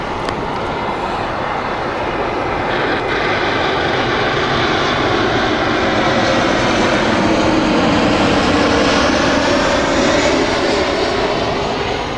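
A Swiss airliner's jet engines roar on a runway at Heathrow Airport. The sound is loud and steady, a continuous rushing drone that swells slightly over about twelve seconds, with no voices.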